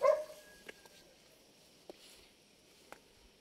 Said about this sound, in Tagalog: Madami sila ditong aso.